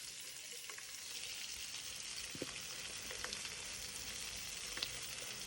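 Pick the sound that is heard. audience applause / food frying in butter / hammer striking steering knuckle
food frying in butter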